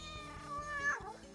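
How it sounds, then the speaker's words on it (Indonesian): A cat gives a single close, clear meow that rises and then slides downward, with a short thump at the very end and no one speaking. "Lu lihat. Itu kucing."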